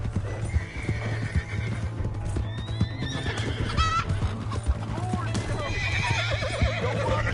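Horse hooves clip-clop while a horse neighs and whinnies several times, with scattered game sounds and voices around it, in the video game Red Dead Redemption 2.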